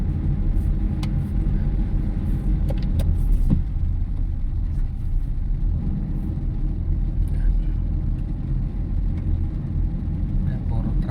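Trucks and other traffic rumble steadily along a road heading toward Bulacan, a continuous loud low engine and tire roar from inside a moving vehicle, with occasional faint clicks and knocks over it.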